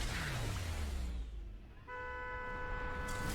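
Car horns honk outside, a long steady blast starting partway through over low traffic rumble.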